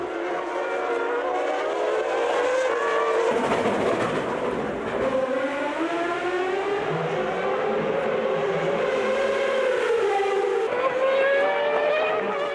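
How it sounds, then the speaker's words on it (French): Formula 1 cars of the 1997 season, McLaren Mercedes and Williams-Renault, race on the final lap, with steady high engine whines rising and falling in pitch as they pass, loud and continuous. "les deux McLaren Mercedes font la jonction avec la Williams-Renault dans le dernier tour."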